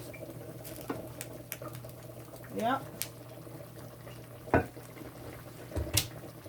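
A pot of Jamaican mackerel run down bubbles on the stove with scattered, uneven pops and soft gurgles, fairly quiet and close, while a person speaks briefly.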